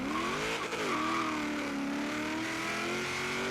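A twin-turbo Mustang drag car with about 2,016 horsepower and rear-wheel drive in Forza Horizon 3 drones loudly and steadily, its engine pitch dipping and then holding a sustained high rev, with no talk over it.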